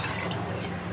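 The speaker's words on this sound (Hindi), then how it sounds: "पानी डाल के गोश्त गलाऊंगी मैं।" Water is poured into a pot of cooking beef for biryani, giving a brief, steady liquid splashing and sizzling rush close by.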